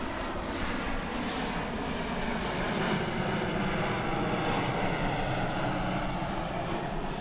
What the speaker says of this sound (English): So we'll let this plane pass overhead.